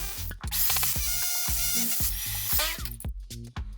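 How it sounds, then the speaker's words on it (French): A drill bores an 8 mm hole into a concrete slab for an anchor bolt, giving a loud, rapid, rattling hammer-drill chatter with short pauses and shifts in pitch, and no talk. "on va percer en diamètre 8"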